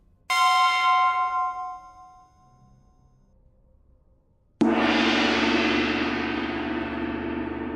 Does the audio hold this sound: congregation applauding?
no